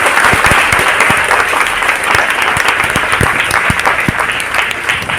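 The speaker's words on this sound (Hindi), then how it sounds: "एक बार अपने मम्मी पापा के लिए तालियां बजानी है।" A hall full of students at a school motivational seminar in Chhatarpur claps for their parents, producing a thick, unbroken roar of applause with occasional distinct claps popping out near the front.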